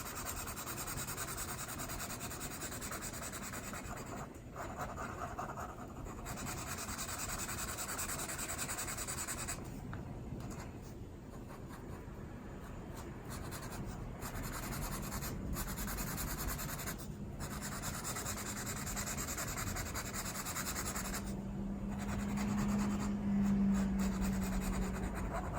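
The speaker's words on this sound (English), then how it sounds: "just doing some straight coloring, or putting a base down for my pencils" Parkoo permanent marker pens colour a page up close, a soft, continuous scratchy rubbing of felt tips across paper with short pauses between strokes, quiet and without talk.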